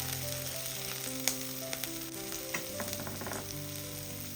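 Green chillies and ginger fry in oil over a medium flame, a close, continuous sizzle with a few spoon taps and stirring scrapes.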